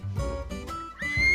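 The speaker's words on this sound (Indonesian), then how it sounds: "Ini dia, kuda." A horse whinnies in several loud, close, quavering bursts, the neighs rising and falling in pitch with short breaks between them.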